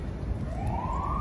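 A police siren wails faintly in the distance on a city street near a mall, one rising tone sweeping up over steady traffic rumble.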